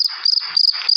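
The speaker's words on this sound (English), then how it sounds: "So this is the sound of the cricket." A cricket trills in a quick, close series of bright, pulsing chirps, several short bursts in a single second, clear and alone with no other sound around it.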